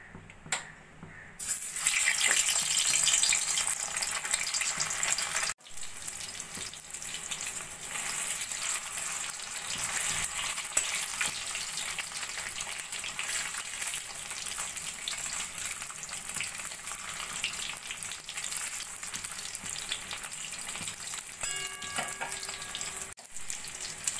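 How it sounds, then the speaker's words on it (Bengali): Steady loud sizzling of chicken balls frying in hot oil, a dense crackling hiss that continues throughout with a couple of brief interruptions. "তারপরে আমি চিকেন বলসগুলো হালকা করে ভেজে নেব।"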